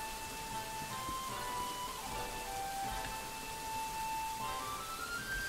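Steady rain falls in the video game Dwarf Fortress, a continuous soft hiss under faint sustained tones that stays even and unbroken.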